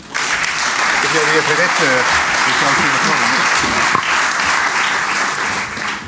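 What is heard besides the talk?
audience applause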